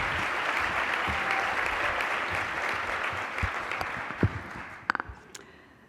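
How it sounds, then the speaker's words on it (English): Audience applause fills a luncheon hall for the President and CEO of the Iowa Women's Foundation, a steady dense wash of clapping that thins out toward the end with a few last sharp claps. "please give a warm round of applause to Dawn Oliver Wyan, President and CEO of Iowa Women's Foundation"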